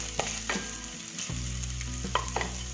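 A small piece of ginger, about an inch, sizzles as it is sautéed in a pan for vegetable wheat momos, with steady close frying broken by a few scraping stirs.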